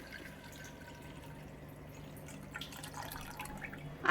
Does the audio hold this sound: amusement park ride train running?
no